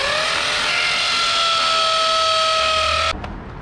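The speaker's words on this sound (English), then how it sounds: "I'm going to drill these bottom holes." Power drill boring bottom holes for a diamond-pattern trellis for a confederate jasmine vine, a loud steady whine held for about three seconds before cutting off abruptly.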